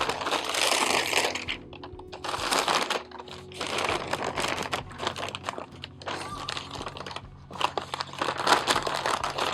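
Butcher-block-type packing paper crackles and crinkles in repeated bursts as it is crumpled and handled up close, with brief quieter gaps between handfuls.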